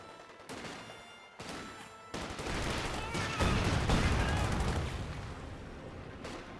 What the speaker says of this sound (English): Sandbags trying to get cleared here by these rifles as they're just dancing around shooting at it.